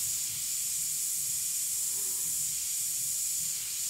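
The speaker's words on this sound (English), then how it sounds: "I just realized I was spraying when I shouldn't have been." An airbrush sprays paint in a steady, continuous hiss of air, close and even throughout with no talking over it, as dark shadowing goes onto a tiger artwork.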